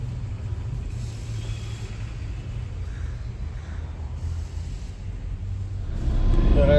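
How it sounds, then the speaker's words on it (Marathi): City road traffic in Pune: a steady low rumble of passing cars and heavier vehicles, close by and continuous, growing slightly louder at the end. "ट्रॅफिक नॉर्मल चालू झालंय."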